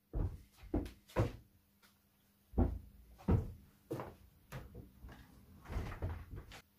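Doors or cupboard doors closing, a series of sharp wooden thunks and bangs at irregular intervals, close and fairly loud, with quiet gaps between.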